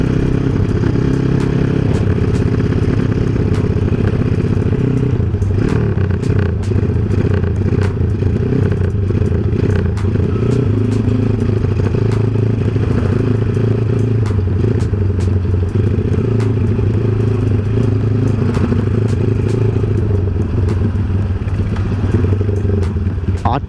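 Motorcycle riding in traffic with a steady, loud engine drone, low rumble and shifting mechanical clatter throughout, close and continuous, with no talk over it.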